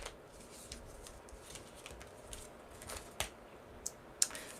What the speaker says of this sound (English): You want to shuffle?